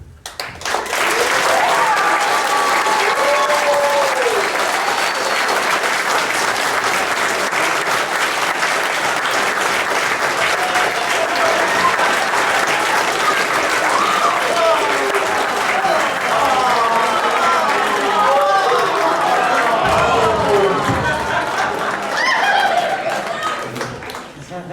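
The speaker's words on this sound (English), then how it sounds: "Let's hear a round of applause for some of our great voices." Convention crowd claps loudly after a Transformers script reading, steady applause with scattered chuckles and voices lasting over twenty seconds before tapering off.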